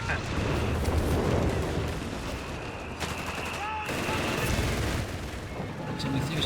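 Company of Heroes 3 battle din, with buildings exploding amid dense rifle and machine-gun fire. It rolls on steadily for the whole stretch, and a commentator's voice runs underneath.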